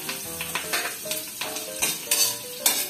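Smoked fish (tinapa) frying in a pan, a steady close sizzle broken by several brief bursts of stirring and scraping, with no voices.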